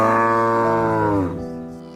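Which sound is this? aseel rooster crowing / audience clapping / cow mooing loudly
cow mooing loudly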